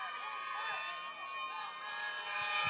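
A dense, steady roar from a cricket match crowd at the United Cricket Bash 2017 fills the scene, with voices blending into a constant din and a talking voice faintly woven through it.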